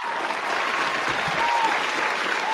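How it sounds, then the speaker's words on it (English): Canned applause fires from a sound button on a live NFL draft show, a short burst of dense clapping and light crowd noise that holds steady for a couple of seconds. "Hit that applause button for me."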